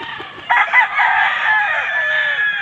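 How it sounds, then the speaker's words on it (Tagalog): On a farm raising quality fighting chickens, a rooster crows loudly and close by, with hens clucking around it and no talk. "Papakita ko sa iyo ang mga manok namin dito, mga quality."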